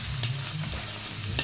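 Oil sizzles in a hot wok while poultry is being cooked, a brief, even frying hiss with a couple of sharp clinks or stirring touches, close and moderately quiet.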